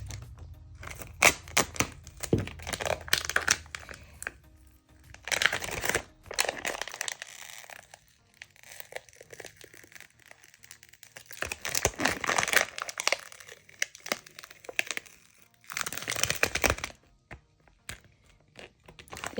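UV DTF transfer film is peeled off a tumbler in a run of crisp crackling, crinkling bursts, close and fairly quiet, coming in uneven spurts separated by short pauses.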